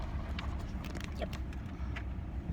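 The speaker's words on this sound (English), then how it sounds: "So as I back this beast in" A large truck backs in, heard from the cab as a steady low engine rumble and road noise with faint intermittent rattles and clicks, continuous and fairly loud throughout.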